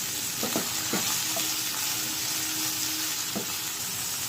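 Tomatoes and ginger garlic paste sizzle steadily in a pan while being stir-fried, with a few soft scraping strokes from the spatula on top of a continuous hiss.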